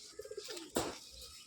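Rajshahi gerebaj pigeons coo softly in a loft, with a few quick low pulsed coos followed by a longer throaty call, faint and close, over a hiss of background noise.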